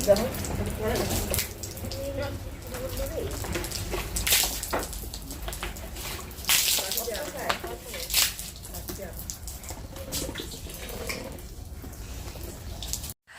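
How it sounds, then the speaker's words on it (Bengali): Water is poured onto seedlings in the morning, a steady trickling splash with scattered drips. A voice talks over it and the water runs on underneath. "আজকে ভাবলাম সকাল সকাল জল দিয়ে নেই একটু"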